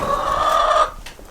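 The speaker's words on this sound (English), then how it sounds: "I'm going to quickly take care of my chickens and show you guys my chickens" Backyard chickens clucking close by in a barn setting, a steady run of overlapping clucks and calls that fades after about a second, followed by one short sharp squawk.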